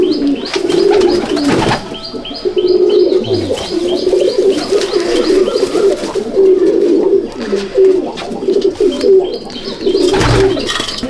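Pigeons in a competition pigeon loft in Nepalganj keep up a dense, continuous cooing, with overlapping low throaty calls rolling on steadily and fairly loudly throughout, and no talking.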